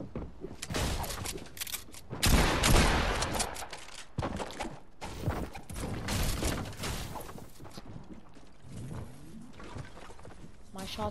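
Rapid bursts of video game gunfire crackle through the whole stretch, loud and dense, with a heavy cluster partway in and lighter shots scattered after, while a player talks over them.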